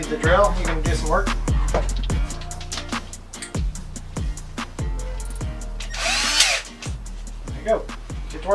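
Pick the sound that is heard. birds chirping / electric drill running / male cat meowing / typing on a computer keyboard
electric drill running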